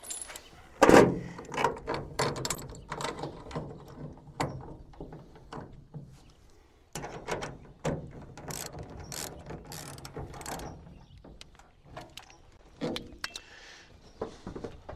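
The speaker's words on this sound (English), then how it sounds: "Use a quick clamp to keep that in place." A quick clamp ratchets tight on a tonneau cover rail while installing a Truxedo Deuce cover on a Ford F150, giving a run of sharp clicking ratchet bursts, near and fairly loud, with no speech.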